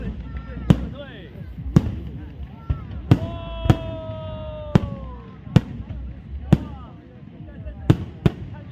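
Fireworks at the 2024 Nantou City lantern festival in Taiwan: loud sharp bangs about once a second, with rising whistles between bursts, heard outdoors among murmuring onlookers.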